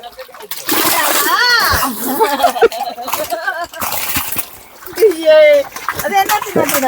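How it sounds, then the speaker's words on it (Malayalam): Tilapia fish thrashing in a fish tank send out repeated close, sharp water splashes and sloshes, with voices talking over much of the activity. "ആ സിലോപ്പിയാണ് ഈ തെറിപ്പിക്കുന്നത്"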